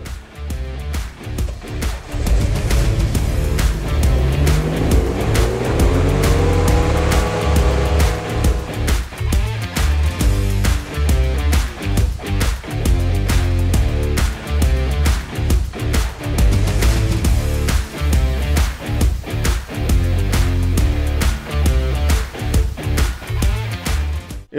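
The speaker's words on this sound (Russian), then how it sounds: "Это достаточно легкая аэролодка длиной 6 метров с зарекомендовавшим себя двигателем К24" A Raptor E-AIR 590 airboat, a light six-metre boat with a K24 engine and electric air-cushion blower, runs loudly and close. Its roar rises in pitch as it revs up, then holds a steady, pulsing drone.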